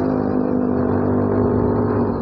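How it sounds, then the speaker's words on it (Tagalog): A loud, steady motorcycle engine drones at close range while riding, a constant rattling hum with no breaks. "Ingay ng motor, oh."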